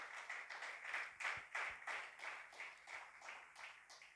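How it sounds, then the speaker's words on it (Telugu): A church congregation claps together in a steady, rhythmic beat at a worship service, the sound somewhat distant and moderately loud, with no talking over it. "కొట్టండి చప్పట్లు గట్టిగా"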